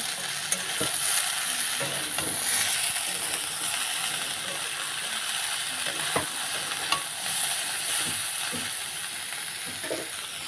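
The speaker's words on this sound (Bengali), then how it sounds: "দিয়ে ভালো করে কষিয়ে নেব" Spices are stir-fried into a pumpkin stem curry in a pan, with a steady sizzle and hiss of hot oil under repeated scraping and stirring clicks of a spatula.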